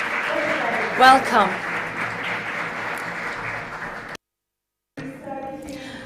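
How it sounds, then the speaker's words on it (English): Audience applause at the start of a Civil Stage program, continuous clapping from a modest hall crowd, with a short spoken welcome over it and a brief cut to silence before it resumes. "And what about a strong applause to start this program?"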